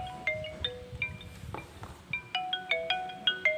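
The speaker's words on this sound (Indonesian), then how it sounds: "ada telepon" A mobile phone ringtone plays a bright, melodic pattern of repeating electronic beeps, fairly close and steady over a low room hum, with no voices.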